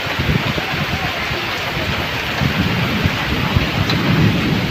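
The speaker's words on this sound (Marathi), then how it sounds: "खूप जोरात पाऊस येतोय मित्रांनो, खतरनाक पाऊस आहे. विजा चमकतायत, वारा सुटलेला आहे, पाऊस आहे." Heavy pre-monsoon downpour in a thunderstorm with gusting wind and running water, a dense, loud, continuous roar of rain with low thunder rumbling underneath throughout.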